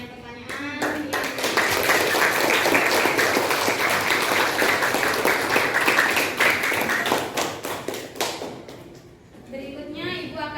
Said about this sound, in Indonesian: Kasih aplaus buat kalian yang sudah bisa menjawab pertanyaan-pertanyaan